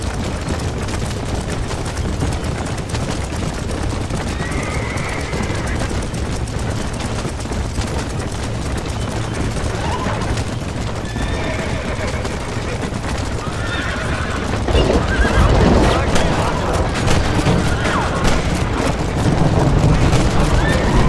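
A horse-drawn wagon in the video game Red Dead Redemption brings loud horse whinnies and clopping hooves over constant rumbling noise, with bursts of gunfire partway through.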